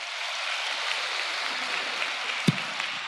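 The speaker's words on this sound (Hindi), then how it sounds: "एक बार जोरदार ताली दादा के लिए बजाओ" Crowd applause for Dada at a packed Bageshwar Dham religious gathering. A steady, even wash of clapping holds throughout, with one sharp knock near the end.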